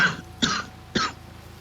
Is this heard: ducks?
no